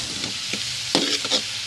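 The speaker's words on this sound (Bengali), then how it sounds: "এখন এটা নাড়াচাড়া করবো। দেখো মশলাটাই কষিয়ে নিচ্ছি সুন্দর করে" Spices with turmeric being stirred and fried in a pan for a liver bhuna: a quiet oily sizzle under a few brief scrapes of the spoon, the loudest near the middle.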